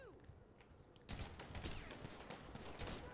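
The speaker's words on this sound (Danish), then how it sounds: "Men det er meget lækkert, at man kun kan skyde sådan gennem døren" Gunfire in the video game GTA V, shooting through a door, comes as a burst of rapid, clustered shots that continue for a couple of seconds, fairly faint and with little other noise.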